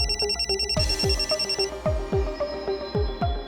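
A telephone rings in repeated bursts of a bright, electronic trilling tone, close and clear, with a low thudding pulse under each ring.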